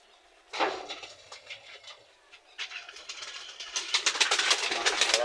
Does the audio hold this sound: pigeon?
yes